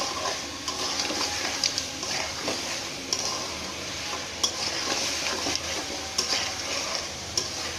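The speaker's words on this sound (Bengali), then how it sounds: "এক টেবিল চামচ রসুন বাটা অ্যাড করবেন করে আবার এটা ভালো করে এর সাথে মিশাবেন" Mutton being stirred with garlic and ginger paste in a frying pan, a continuous close sizzle under repeated scraping and stirring strokes of a spoon against the pan, with occasional louder knocks.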